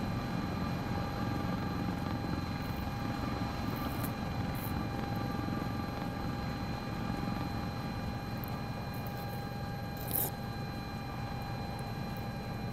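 A helicopter in flight heard from inside the cabin, a steady loud rotor and engine drone with even harmonic whine holding throughout, no talk over it.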